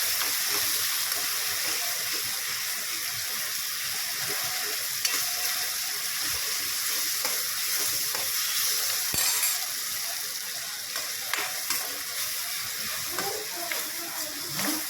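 Garlic chutney of garlic, ginger and crushed red chilli hits a hot pan for khichdi-kadhi, giving a steady, moderately quiet sizzle and frying hiss with faint stirring clinks throughout.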